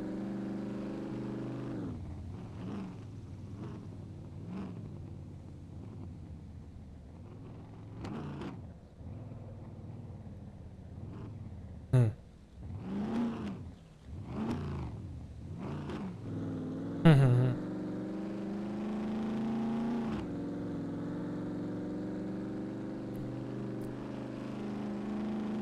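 Car engine in the survival video game SCUM, a steady drone that rises and falls through repeated revs and gear changes, continuous and fairly close, with no talking.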